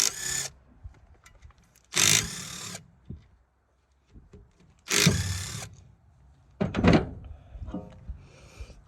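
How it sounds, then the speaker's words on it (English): Several short bursts of a power tool, likely an impact driver or ratchet, whir against a 5.3 engine while its oil pump is unbolted, separated by pauses with small metallic clinks and handling noises nearby. "So now take this, get this oil pump off here."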